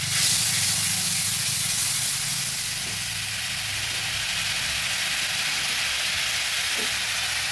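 Water splashed onto ground spices frying in a hot pan for a vegetarian banana-flower dish gives a loud, steady steamy hiss that eases slightly after the first couple of seconds and then holds on without voices.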